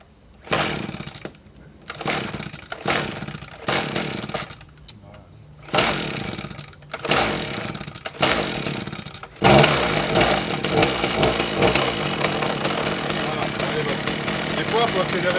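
A petrol brush cutter engine starts and runs in short bursts, then revs continuously and loudly near the microphone, with a person talking between the bursts.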